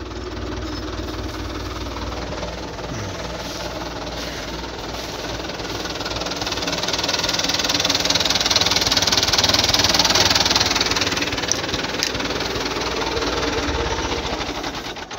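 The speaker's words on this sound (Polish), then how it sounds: "Tak, Traktor wyposażony jest w turbinę." A Zetor 6945 turbocharged diesel tractor engine runs steadily close by with a loud, continuous rattling drone that swells slightly midway, with no speech.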